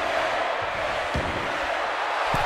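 Steady crowd roar from an arena audience in WWE 2K24 during a Triple H versus Undertaker match with Shawn Michaels as special guest referee, continuous and dense with a couple of low thuds inside.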